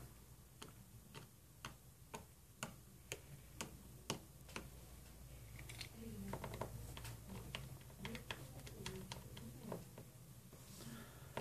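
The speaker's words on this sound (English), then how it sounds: "The next step is to remove each of the 9 screws that secure the back plate." Screws are backed out of a Samsung Galaxy S4 back plate, giving a faint, quick series of small regular ticks and clicks, close up and quiet.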